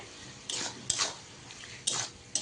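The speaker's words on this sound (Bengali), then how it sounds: "চলো এবার ভালো করে মশলাটাকে কষিয়ে নেব যতক্ষণ না তেল ছেড়ে আসবে ততক্ষণ কষিয়ে নেব" Spice paste with salt and turmeric being stirred and fried in a pan for a rohu-style fish dish, with a few separate scraping strokes of a utensil against the pan over a faint background sizzle, no talking.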